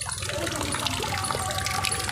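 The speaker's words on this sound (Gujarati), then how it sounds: "જો ઓલા લોટામાંથી પાણી આવે જો" Water running steadily from a lota-shaped spout at a Meldi Maa temple fountain in Trapaj village, a continuous splashing trickle close by, with no talking.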